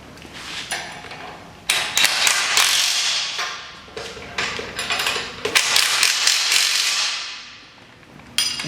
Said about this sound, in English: we'll tighten these up. Using a 3/4 inch socket